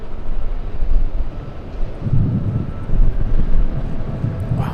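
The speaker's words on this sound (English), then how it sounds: "Look at the winds. It's just blowing the camera around." Strong wind buffets a camera microphone at Los Angeles International Airport, producing a steady, loud, low rumbling roar with gusty swells and no talking.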